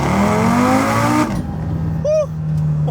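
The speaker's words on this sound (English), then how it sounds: "We've got in manual, and we'll do a launch here." A 780HP Audi RS3 launches from a dig in manual mode, its engine roaring and climbing through the revs before a sudden cut at a gear change, then a brief whine and continued drive.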